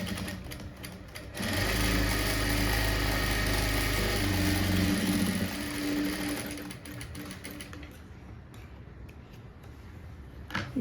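A sewing machine stitches blouse fabric in a tailoring class, whirring in a steady close run for several seconds before slowing and stopping, with light handling noises afterward.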